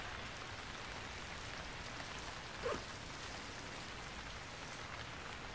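Steady rain in the game Stranded Deep, a constant hiss of drops with a single faint tap near the middle, no voices.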